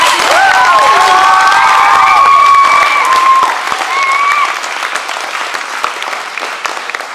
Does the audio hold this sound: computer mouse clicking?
no